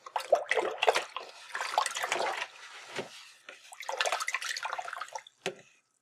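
A paintbrush rinsed in a water pot during floral painting, with several bursts of swishing and sloshing water separated by brief pauses, close and fairly quiet, no voices.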